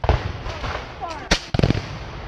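Revolutionary War reenactors fire a musket volley outdoors, with several loud, overlapping cracks and booms in quick succession, a ragged burst of shots, and voices shouting around them.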